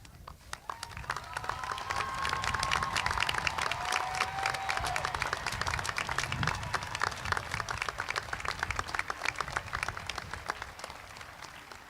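Audience at a high school graduation commencement applauds standing parents and grandparents: a long, dense wave of clapping that swells after the first second and holds steady and loud with faint crowd murmur and a few cheers.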